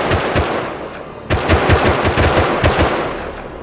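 Rapid automatic gunfire in the video game Rust, loud close bursts of fast repeated shots filling the clip, with a brief break before the firing resumes.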